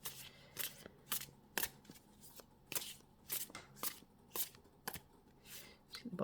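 Tarot cards being shuffled in repeated crisp riffling bursts, roughly a dozen quick close-up flicks spaced evenly under a quiet room tone.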